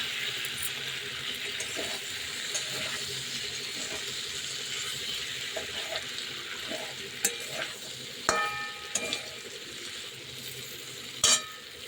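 Spice paste and taro frying together in a pan, a steady low sizzle under repeated scraping stirs and occasional clinks of a utensil, fairly quiet and close, with no talk.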